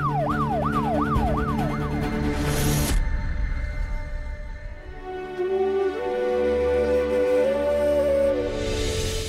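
A loud ambulance siren wails in rapid up-and-down sweeps, then cuts to a steadier, shifting tone alongside vehicle engine noise, with no talking.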